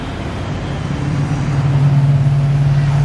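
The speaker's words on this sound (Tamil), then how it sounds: "ஸோ வண்டி ஆன் ஆகிடுச்சு" A car engine idles steadily just after being started, a close, low, even hum that holds without a break.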